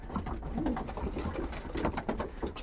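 Pigeons feeding in a pigeon loft coo steadily and close by, with soft repeated calls overlapping through the short stretch and no talking.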